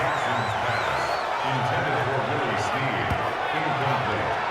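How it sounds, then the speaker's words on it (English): A loud video game American football stadium crowd roars continuously, with chanting swells and a sharp thud partway through, heard under broadcast-style game audio. "You can already start to hear this crowd."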